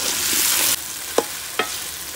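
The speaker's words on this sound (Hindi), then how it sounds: "चिकन अच्छी तरह से फ्राई हो चुका है, इसमें अब मैं डालूंगी टमाटर, इसे मैं घी के अंदर डाल रही हूँ" Chicken and tomatoes fry in ghee in a pan, a steady close sizzle with two sharp stirring scrapes of a spoon against the pan; no voices.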